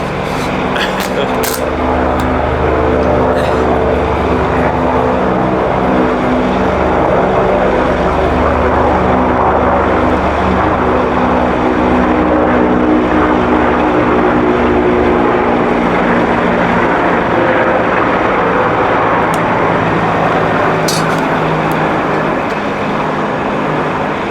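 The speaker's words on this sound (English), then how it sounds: "Fucking helicopter." A loud helicopter drones steadily overhead throughout, a continuous rotor roar that barely changes, with faint talk mixed in.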